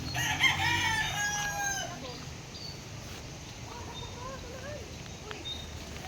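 A rooster crows loudly and close by at the start, followed by fainter, more distant crowing and clucking from a chicken pen, with a voice talking in the background.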